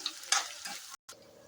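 Green chillies and onions frying in a pan give a brief sizzle with a few quick stirring scrapes, close and quiet, lasting little more than a second.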